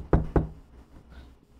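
Two sharp knocks land in quick succession on a locked door in The Office video game, close and distinct, followed by quiet.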